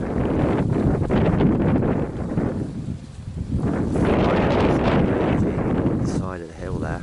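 Strong storm wind buffets a microphone on a hillside in Cyprus during a large fire, roaring broad and steady through the whole stretch with a brief lull midway.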